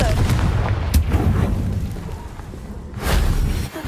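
A Confringo spell explodes in the video game Hogwarts Legacy, filling the moment with loud, dense booming blasts and crackling impacts, with a second swelling burst near the end.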